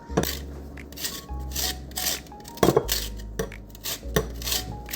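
Lemon skin rubbed against a zester for lemon bars, giving repeated short rasping scrapes in uneven strokes, close and fairly quiet, with light knocks between passes.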